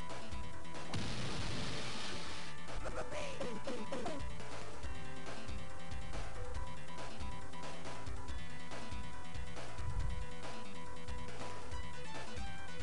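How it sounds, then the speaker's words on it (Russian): Earthworm Jim 2's super gun fires repeatedly in the video game, a run of booming blasts and crashes spread across the clip under busy background game music. "Либо можно его вот так вот пристрелить из супер ружья."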